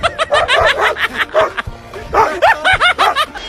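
A dog barks in short, loud, repeated yips as it chases a man in a Tamil comedy sketch, with laughter mixed in between the barks.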